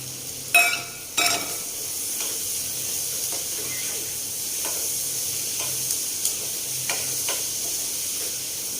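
Onions and gram flour roasting in a pan for besan bhurji, a soft steady sizzle with a few sharp scraping stirs near the start and occasional light clicks, no voices.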